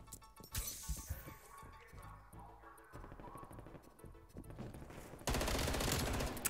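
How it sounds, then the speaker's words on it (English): Gunfire in a shooter game with a new piano gun, scattered shots and clattering impacts followed by a sustained loud noisy burst near the end, with no talk. "Someone's trying to shoot me across the way"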